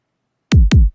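Two punchy processed kick drum hits from the Fairlane pack sound in quick succession after a moment of silence, each shaped by drum-bus EQ with a cut around 1k, loud and dry with deep booming lows.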